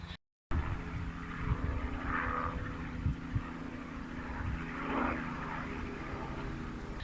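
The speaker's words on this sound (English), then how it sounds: "Interesting point, helicopter coming over" A helicopter's steady engine and rotor drone passes overhead, holding a continuous low rumble through the whole stretch after a brief cut at the start.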